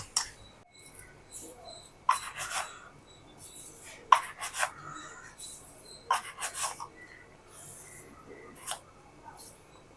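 Eggs and sugar being mixed by hand in a bowl for caramel pudding, with quiet, irregular scraping and rubbing strokes in short bursts over a faint background.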